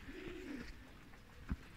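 Elvan pigeons coo nearby in a low, soft rolling call, with a quieter thud and a faint flutter later amid background noise, and no talk.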